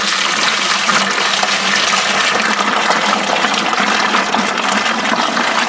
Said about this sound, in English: I try to let it splash around a little bit to help aerate it.